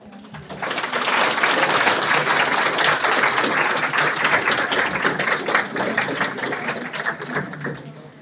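Applause from an audience at an academic panel session, a dense burst of clapping that swells quickly, holds steady for several seconds and then thins out toward the end.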